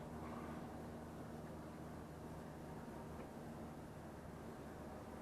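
A Minn Kota Ulterra trolling motor moves a boat on open water, giving a steady, continuous low hum with broadband wash that stays even throughout, with no talking.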